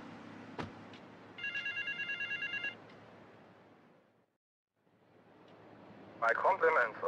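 Telephone bell ringing from a phone booth in the video game GTA Vice City, a repeating electronic ring burst heard clearly over game ambience and background noise, followed later by a louder chirping ring.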